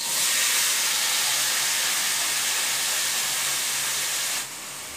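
Mixed vegetables sauté in a hot pan with a loud, continuous, close hiss of sizzling that holds steady and then abruptly quietens near the end, with no voices.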